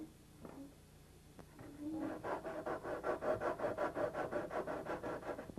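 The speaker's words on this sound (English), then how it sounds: "I have to go back to finishing up some precision sanding on the SIG quarter" Precision sanding on a SIG quarter scale Cub model airplane comes through as a couple of soft scrapes, then a steady run of rhythmic back-and-forth rasping strokes, close and fairly quiet.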